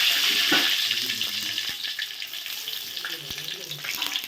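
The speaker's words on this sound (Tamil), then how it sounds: "முதல்ல எண்ணெய் ஊற்றியாச்சு, கடுகு உளுந்து போடுறோம்." Mustard seeds, urad dal and dried chillies fry in hot oil with a bright, close sizzle and spattering crackle, loudest at the start and easing off, without speech.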